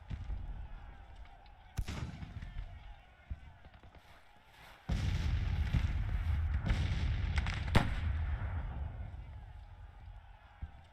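Musket volleys and artillery booms in a Civil War battle game at Champion Hill. Scattered sharp cracks give way to a sustained, rumbling roll of massed fire, with a voice speaking over it.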